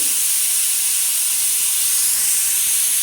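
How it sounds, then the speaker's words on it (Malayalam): A pressure cooker of long beans releases its whistle, a loud, continuous close-up hiss of escaping steam with no break. "അപ്പോൾ ഇത് വിസിലൊക്കെ വന്നിട്ടുണ്ട്"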